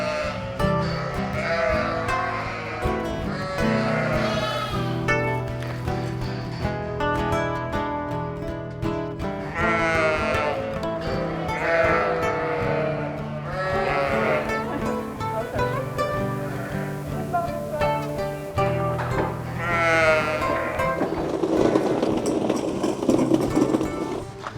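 A flock of dairy ewes and lambs bleats continuously on a sheep farm, many overlapping calls near and far that form a dense, loud chorus.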